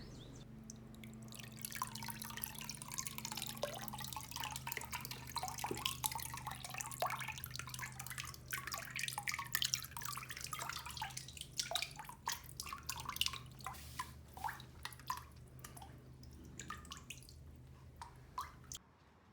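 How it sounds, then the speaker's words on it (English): Water pours and trickles steadily from a papermaking mold screen, breaking into rapid drips and splatters as the flow thins out, close by. "pull it out and let the water strain"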